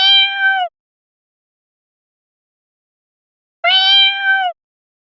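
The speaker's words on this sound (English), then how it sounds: "C-A-T. Cat." A domestic cat gives two clear, loud meows separated by a few seconds of silence, the second slightly longer than the first.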